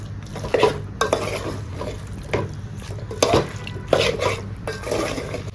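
Malvani-style country chicken curry stirred in a pot after hot water is added, with a spoon scraping and clinking against the metal in irregular strokes over a soft simmering sizzle.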